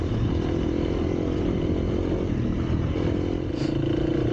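Motorcycle being ridden, engine droning steadily with wind rush and rattling clatter throughout, close and loud.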